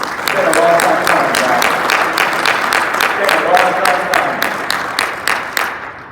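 An audience at a mayor's State of the City address breaks into sustained loud applause, a dense wash of clapping that holds steady for several seconds before tapering off near the end.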